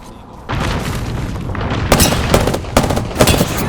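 Gunfire in Apex Legends, with bursts of shots and booming impacts over steady game noise, louder cracks clustering near the end.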